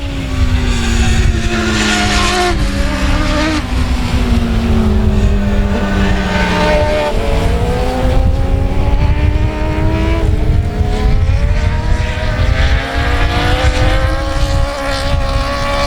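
Race cars scream around the South Texas Speedway oval on the final lap, engines loud and continuous with pitch sweeping up and down as cars pass in close succession, a dense wall of racing engine noise.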